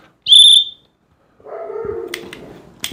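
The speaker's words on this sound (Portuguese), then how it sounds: "Esse apito ele produz um som mais agudo de um lado" One short, piercing high-pitched blast from a dog training whistle, then a pause followed by a dog's whining bark and some rustling close by.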